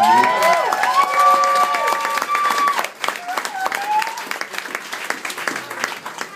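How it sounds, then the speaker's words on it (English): Wedding guests applaud the bride Christine during a toast, a dense, steady wash of clapping with some cheering, while musical or sung tones ring out over it in the first seconds. "I want to get a round of applause for how beautiful Christine looks tonight"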